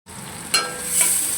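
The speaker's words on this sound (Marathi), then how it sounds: "टोमॅटो, कांदा, मिरची चांगलं भाजून घेऊया आपण." Tomato, onion and green chili sautéing in a pan, a short burst of close, bright sizzling with a quick stirring scrape partway through.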